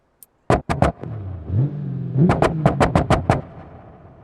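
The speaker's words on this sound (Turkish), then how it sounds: "Hatta egzozu bile değişti. Patlatmaya başladı." A modified car's engine revs in BeamNG.drive, and its exhaust lets off sharp, loud popping bangs, first a few, then a rapid burst of about seven in a row.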